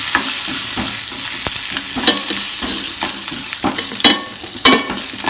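Chana dal, asafoetida and curry leaves sauté in a pan with a loud continuous sizzle and crackle. A spatula stirs and scrapes against the metal in quick repeated strokes, with a few louder knocks near the end.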